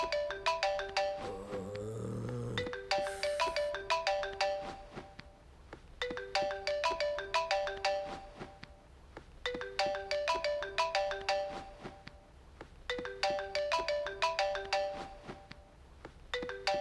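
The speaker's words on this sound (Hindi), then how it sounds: "किसका फोन रिंगिंग है?" A mobile phone ringtone plays a repeating electronic chime melody in regular bursts with short gaps, fairly quiet and clear, with a brief burst of other sound near the start.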